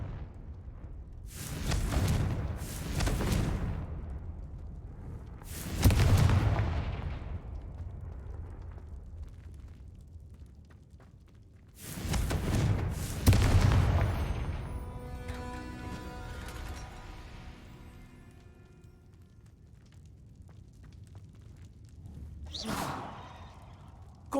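Confringo blasting spell cast repeatedly in Hogwarts Legacy, several whooshing, booming bursts in separate clusters with quieter gaps between, ending in a sharper burst.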